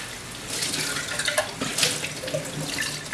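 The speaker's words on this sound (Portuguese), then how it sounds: "Importante que a gente não abra a torneira muito, podemos colocar um fluxo médio" Kitchen water tap running at a medium flow for rinsing, a steady splashing hiss with small bright spatters, close and continuous.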